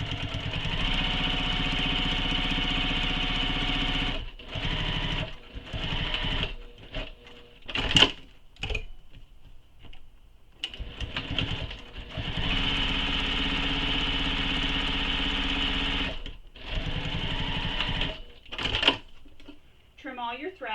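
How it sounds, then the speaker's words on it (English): A sewing machine top stitches along the folded edge of a commuter tote bag in several steady runs broken by short pauses, with a voice talking at times. "you're going to top stitch along this folded edge using the seam allowance given in the pattern"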